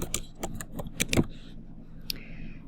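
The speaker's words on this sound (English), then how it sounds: "So we're going to type that in." Short bursts of computer keyboard typing, a quick run of close key clicks and taps with brief pauses, fairly soft and with no talking.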